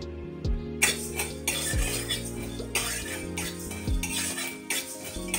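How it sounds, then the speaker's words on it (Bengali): A spatula scrapes and stirs coriander and cumin seeds dry roasting in a kadai, with repeated metallic clinks and rasping strokes in a steady rhythm, close and fairly loud. "এবার দুটো একসঙ্গে আমি ড্রাই রোস্ট করে নেব।"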